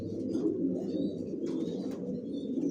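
Pigeons in a racing pigeon loft coo steadily and continuously at close range, a low rolling murmur from several birds with a few faint higher chirps over it.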